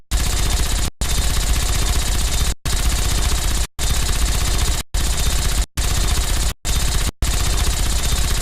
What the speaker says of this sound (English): Is that a Gatling laser?